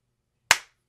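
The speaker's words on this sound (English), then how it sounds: "Gotta do a clap sync." A single sharp hand clap rings out once in an otherwise silent room, close and crisp.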